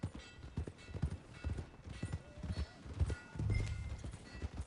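Horse hooves clip-clop steadily on a town street in the Red Dead Redemption video game, an uneven rhythmic clatter at moderate distance among background game ambience.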